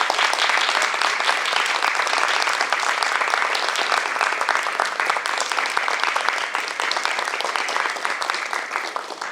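An audience claps steadily for performers after a staging of A Midsummer Night's Dream, with dense, sustained applause that fills the room at an even loudness throughout and no talk over it.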